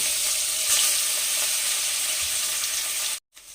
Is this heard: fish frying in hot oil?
yes